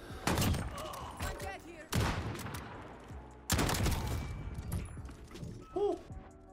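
Enemy gunfire in a shooter video game, three heavy volleys of rapid shots with crashing impacts, loud and close, while a player speaks briefly over the shooting.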